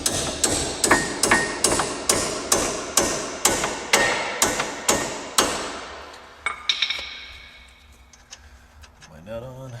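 A hammer taps a through bolt home during clutch replacement on a 2002 Ford Focus. About a dozen crisp, evenly spaced metallic taps ring out close by, then a few scattered lighter knocks follow before it settles.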